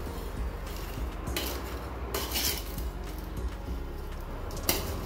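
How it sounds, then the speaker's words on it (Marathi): Mango pickle pieces being mixed with jaggery and salt in a metal pot, with steady scraping and clinking of a utensil against the vessel throughout, close and fairly loud, no talking. "हे गूळ व मीठ या सर्व फोडींना आपण व्यवस्थित लावून घेऊ, म्हणजेच हे सर्व छानपैकी मिक्स करून घेऊया"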